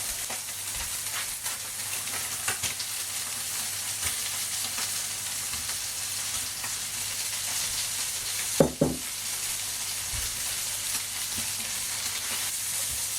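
Chicken pieces and red pepper fry in a hot pan with a steady, close sizzle, broken by occasional stirring scrapes and knocks, with no talking.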